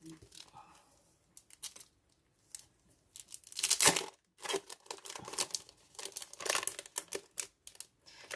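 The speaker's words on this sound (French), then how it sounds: "Donc maintenant on va utiliser le fameux papier de masquage que vous trouvez ici." Sheets of masking paper are handled, crinkled and torn by hand in a series of sharp, close, papery bursts with short pauses between them, while a voice speaks over parts of it.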